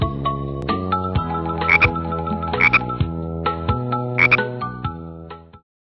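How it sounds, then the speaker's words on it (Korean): Frogs croak in a few bright, repeated bursts over a steady, tuneful musical backing, the croaks landing in rhythm like part of a children's song. "개굴개굴 개구리 울고 있어요."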